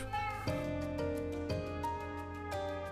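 A cat meows several times in the Minecraft Create mod, short tonal calls repeating roughly every second over steady background game music, close and clear.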